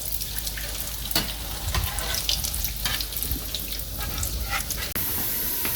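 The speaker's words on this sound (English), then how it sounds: "I put it on saute mode. Put some oil in there. Sliced one onion in there" One sliced onion sautéing in oil in an Instant Pot on sauté mode: a steady, close hiss of frying that runs unbroken for several seconds, with a few soft clicks and no talking.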